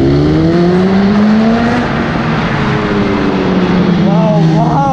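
A Suzuki Hayabusa superbike roars past on a road, its engine note rising then falling as it goes by, loud and near and steady throughout, with a second engine whine climbing near the end.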